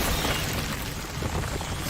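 A Confringo fire spell blasting in the video game Hogwarts Legacy, a loud, sustained burst of explosive, rumbling noise that fills the whole moment without letting up.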